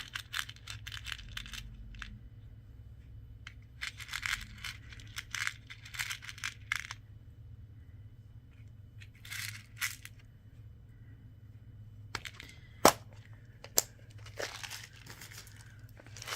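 Aqua and pink sea glass beads clink and rattle as they are handled for a SoftFlex bead anklet, in scattered bursts of small clicks with quiet pauses between, and one sharp louder click near the end.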